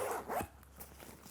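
Two quick zipper pulls open the front stash pocket of a Sterkmann travel bag with waterproof zippers, close and crisp, then quieter rustling follows.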